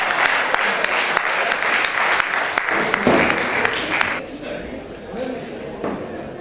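Hearty applause from a poetry gathering greets the poet Mansoor Afaq, loud and dense at first, then thinning and fading out over the last couple of seconds.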